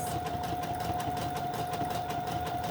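A sewing machine stitches fabric and lace pieces for a snippet roll. It whirs steadily and closely with a constant motor hum and a rapid needle chatter, and there is no talking.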